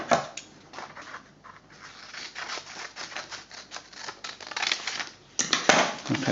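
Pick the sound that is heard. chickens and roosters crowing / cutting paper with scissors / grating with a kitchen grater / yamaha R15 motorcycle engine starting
cutting paper with scissors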